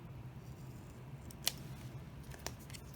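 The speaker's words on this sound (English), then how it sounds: "So I just normally cut the corners right in line with my mounting board." Scissors snip the corners of a mounting board in a quiet room, two faint, sharp cuts about a second apart over a low background hum.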